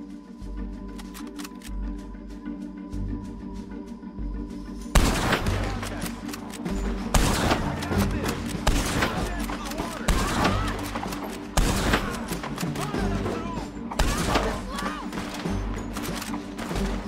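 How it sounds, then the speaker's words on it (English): Gunfire in Red Dead Redemption 2, starting with a quiet low rumble and then breaking into loud, rapid bursts of shots with brief gaps, staying close and heavy for the rest of the stretch. "It is so satisfying shooting with this gun."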